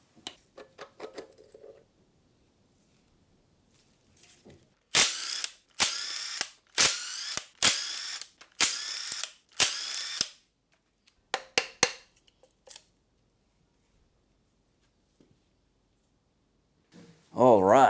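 Tools work on a Land Rover 2.25 engine as the pump and backing plate come off: a run of sharp ratchet clicks in quick bursts, close and fairly loud, between quieter handling noises and brief talk.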